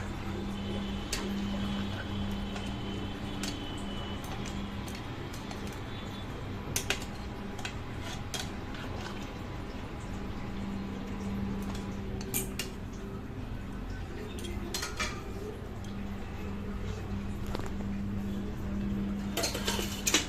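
A utensil stirs fish head curry with potatoes in a pot just after hot water is poured in, making scattered soft clinks and scrapes against the metal over a steady low kitchen hum, with no talking.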